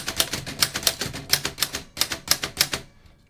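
Keys clack steadily on a vintage Remington Rand Deluxe Model 5 manual typewriter, about a dozen sharp close strikes in quick irregular rhythm, alone and loud.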